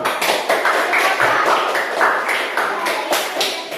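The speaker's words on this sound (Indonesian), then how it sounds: "tepuk tangan untuk kelompok 1 dulu" Classroom students clap for a group after its presentation during a practice-teaching lesson; brisk, close, fairly loud clapping runs steadily for a few seconds with slightly uneven rhythm.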